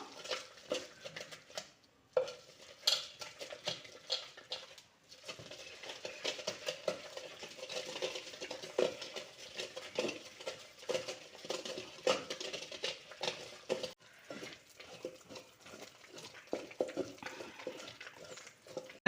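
Cooked puliccha keerai (sorrel leaves) being mashed in a pot with a wooden masher, a continuous soft, wet churning and scraping with brief pauses, close and fairly quiet.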